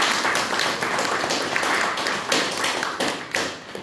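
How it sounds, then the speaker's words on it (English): Audience at an event celebrating the abolition of medical debts applauding to thank donor churches, with dense, steady clapping from a sizeable crowd and a few louder claps near the end. "Could we please thank them with a round of applause?"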